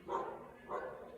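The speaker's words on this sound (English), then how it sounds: "This dog is always barking." Neighbor's dog barking next door, two muffled, somewhat distant barks about half a second apart, heard faintly indoors.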